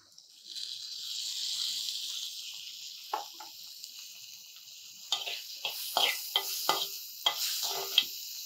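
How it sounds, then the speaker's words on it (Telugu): Tomato pieces sizzle and hiss steadily in a hot pan as they cook, with several sharp stirring scrapes and clatters breaking through in the second half; no voices are present. "దీంట్లోనే ఇప్పుడు కొంచెం టమాటో ముక్కలు వేసుకోండి"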